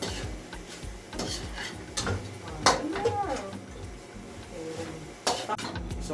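A utensil stirs chicken with spring onion in a pot, making irregular scraping clinks and light knocks against the metal over a soft background.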